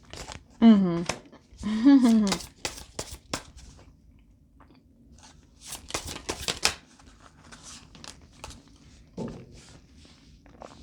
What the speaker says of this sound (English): I want to pull more cards.